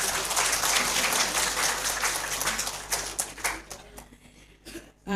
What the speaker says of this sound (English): Give big applause to Mr.